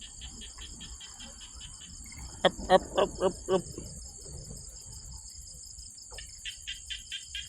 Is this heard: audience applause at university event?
no